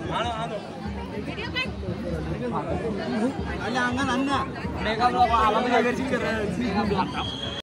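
Crowd chatter at the Ekvira palkhi procession, many voices babbling together at steady volume with nearby people talking over the din.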